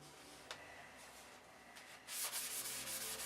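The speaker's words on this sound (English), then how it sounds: "I've been sanding on it and it does not load up." Steady scratchy rubbing of gold coat sandpaper on a soft sanding block, continuous strokes that grow louder and brighter partway through, close by with no talking.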